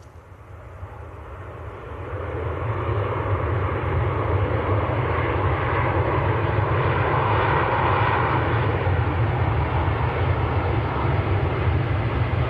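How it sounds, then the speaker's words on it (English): An Emirates Airbus A380F cargo jet from Dubai at Manchester Airport rumbles in, its engine roar swelling over the first few seconds and then holding a loud, deep, steady drone. "A380 F Emirates from Dubai."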